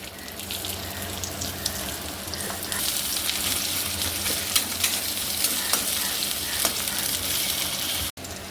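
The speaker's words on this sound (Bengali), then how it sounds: "প্রথমে আমি পেঁয়াজ দিয়ে দিলাম" Onions frying in oil in a kadai while being stirred, a loud continuous sizzle with scraping and clattering strokes of the spoon, close and steady without voices.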